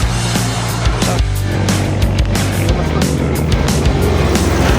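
A motorized tricycle roars past on a road during a Marilaque ride, its loud engine noise steady throughout, mixed with rushing wind and traffic.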